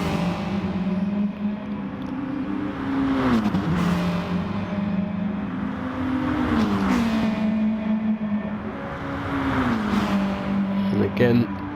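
Race car engines roar down Conrod Straight in a sim racing game, several cars droning and shifting pitch as they run close together in a slipstream, with a commentator talking over the steady engine noise.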